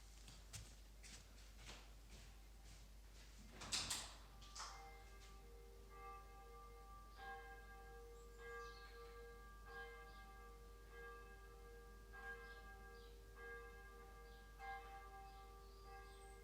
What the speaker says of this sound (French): Ah, c'est l'Angélus chez moi, j'adore ça.